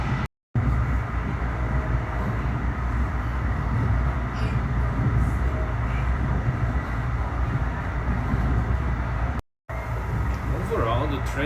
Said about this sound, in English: Train's slowing down now.